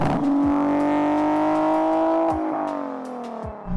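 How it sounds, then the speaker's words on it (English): Exhaust of a Nissan 370Z NISMO fitted with V2 short tails drones steadily under acceleration, its pitch rising through the gear, then dipping briefly at a shift before climbing again. "you got the V2 short tails on, which is what's on now, and it just makes the car sound so much better"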